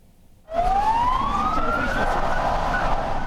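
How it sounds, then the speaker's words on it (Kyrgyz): An ambulance siren wails through the streets of Istanbul, starting abruptly and rising in a long sweeping tone, loud and fairly near, over a steady background of traffic. "Стамбул шаарында тез жардам кызматы борборго шашып жөнөдү."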